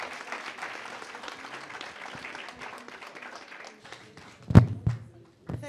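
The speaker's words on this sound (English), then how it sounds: "Please give our panelists a round of applause." Applause for panelists after a film screening panel at a book festival, a moderate spread of clapping that fades, then a few loud thumps and taps close to the microphone.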